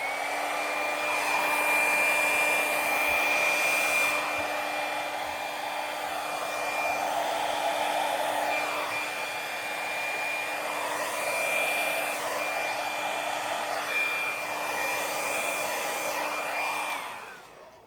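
A hair dryer blows wet acrylic pour paint mixed one to three with Floetrol across a canvas for a seahorse bloom effect. Its loud, steady close whir runs almost the whole time, wavers slightly, then shuts off at the end.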